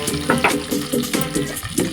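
Liquid pours into a pot of khichuri, a close, continuous splashing and gurgling with bubbling textures, loud and alone.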